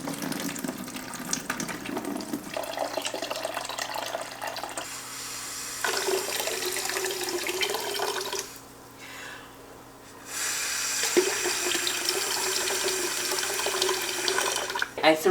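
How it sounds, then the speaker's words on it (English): Water from an aquarium canister filter pours and splashes steadily into a sink or container, close and fairly continuous, with a short quieter break midway before the flow resumes. "I threw out that bad water"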